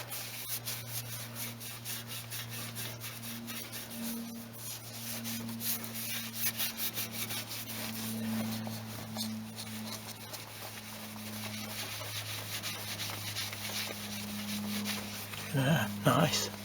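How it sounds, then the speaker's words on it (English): Steady hand rubbing of metal polish on a Celica JapSpeed car exhaust, a continuous soft scrubbing texture with a constant low hum beneath, close and fairly quiet, with a few clattering knocks near the end. "Needs a little bit more buffing on there"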